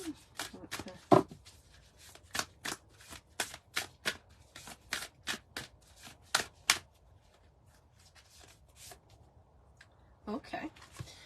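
Tarot cards shuffled and drawn for a Halloween reading, a quick series of crisp riffling bursts, close and fairly loud, tapering off before a last few flicks.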